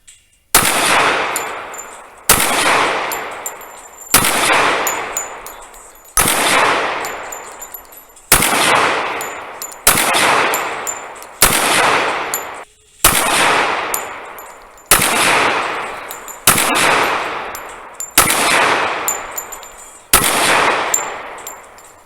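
A Ducks Unlimited Para 1911 .45 ACP pistol fires twelve loud, sharp shots, evenly spaced about two seconds apart, each with a ringing decay outdoors.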